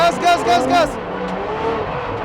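A car drifts on a Japanese track as the driver pulls the handbrake and applies throttle, with tires squealing and the engine revving loudly up close, then easing into a rougher drone while an instructor talks.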